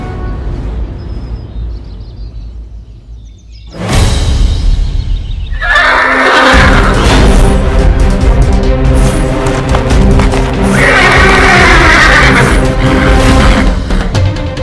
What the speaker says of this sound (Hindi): प्रभाकर राव, हमने कहा घोड़े पर जाकर बैठो